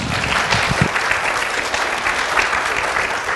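Audience applause at a model railroad club talk, a dense steady clapping from a room full of people that holds loud and even throughout without a break.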